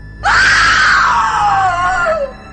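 A woman lets out a single loud, sustained scream that starts sharply, holds high for about two seconds, then slides downward and cuts off.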